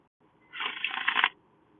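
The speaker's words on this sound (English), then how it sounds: "There it is, the bridge shuffle." A deck of tarot cards gets one quick bridge shuffle, close and crisp, as a rapid riffle of flicking cards lasting under a second that ends in a soft settle.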